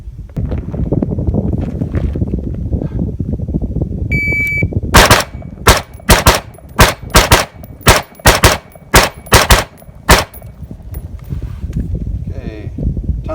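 Around a dozen sharp, loud gunshots fired at 5 yards in an offset shooting drill, spaced in quick irregular bursts, with a short electronic timer beep just before and outdoor wind noise around them.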